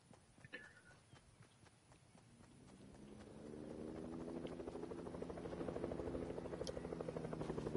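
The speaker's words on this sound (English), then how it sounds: "Chopper south, is it?" A helicopter drones steadily in a Fortnite squads match, its rotor thrum swelling from faint to loud and close as it nears, with some brief game noises early on.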